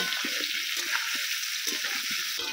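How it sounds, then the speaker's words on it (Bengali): Potato pieces tossed with a little turmeric frying in oil for a mutton curry, a dense, steady bubbling hiss close up with faint stirring beneath. "আলুটাকে আমি খুব ভালো করে লাল লাল করে ভেজে নেব"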